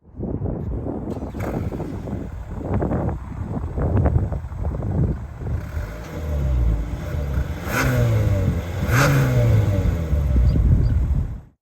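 A 2023 Hyundai Santa Fe's turbocharged 2.5-liter four-cylinder engine revs up repeatedly, swelling and falling in several loud pulls with a rising tone, recorded close by with some wind buffeting and no talking.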